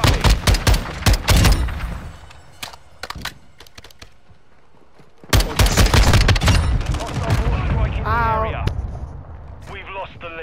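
Bursts of rapid video game gunfire, loud and close, in clusters of sharp shots with a brief lull before a sustained barrage, with people talking over parts of it.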